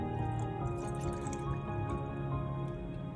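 Melted ghee pours from a bottle into a glass jar, producing a steady, quiet, liquid trickle with soft dripping and filling sounds close by, with no voices.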